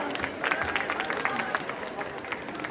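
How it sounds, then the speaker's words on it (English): At an annual day function, an audience applauds a performance with scattered, fairly close clapping throughout, under a voice talking over the crowd. "Let's give her a big round of applause again."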